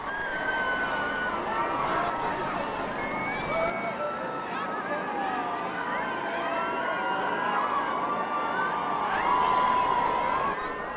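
Crowds outside Clarence House at a royal wedding cheer and chatter with a steady, distant murmur of voices and shouts, held at an even level throughout, with a narrator talking over it.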